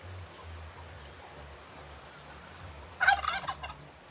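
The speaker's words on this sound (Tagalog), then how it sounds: "Tsaka yung pabo." A turkey at Hinaguan Nature Park gives a short rapid burst of gobbling near the end, over faint outdoor background hum.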